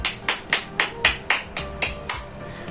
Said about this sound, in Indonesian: Semuanya tepuk tangan untuk Sasha